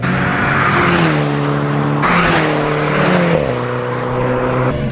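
A BMW Z4 sports car engine roars loudly and continuously, its pitch rising and dropping with gear changes, close and dominant.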